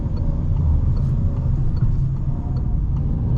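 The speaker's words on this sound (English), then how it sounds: "You can hear in the first gear the AC." Steady low cabin rumble inside a 2021 Citroen C3 Shine 1.2 PureTech driving in first gear at night, air conditioning running as a constant broadband drone under the engine and road noise.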